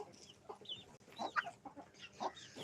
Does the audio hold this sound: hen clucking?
yes